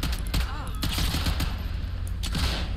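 Rapid bursts of gunfire crackle in quick succession, loud and close, like a firefight in a video game.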